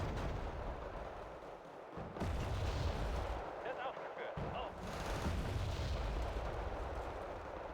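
Mortar artillery fire in a video game, a dense rumbling barrage of booming blasts with a brief lull, loud and continuous against a noisy battlefield backdrop.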